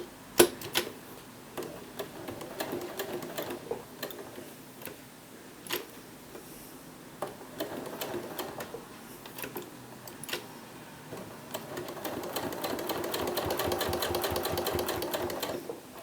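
Close-up sewing machine stitching a fabric bag: short bursts of rapid mechanical ticking, separated by pauses and clicks, then a longer sustained run of fast stitching near the end.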